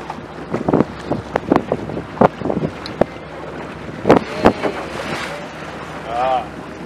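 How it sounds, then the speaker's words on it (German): Waves slap against a small boat on Lake Hallwil at Meisterschwanden, Switzerland, in a series of sharp, close splashes and knocks amid wind noise on the microphone. "Achtung, Welle kommen."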